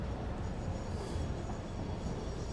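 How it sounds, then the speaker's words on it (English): A train running in the factory-building game Satisfactory, a faint, steady rumble of rolling wagons with a soft hiss, continuous and distant with no talk. "Stupid train is running."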